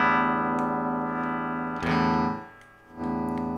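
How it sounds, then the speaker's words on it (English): Electric guitar played with its tone control turned fully up for a bright, trebly sound: sustained chords ring out, fade around the middle, then a fresh strum rings again, with no talk. "All the way up, it's a really light,"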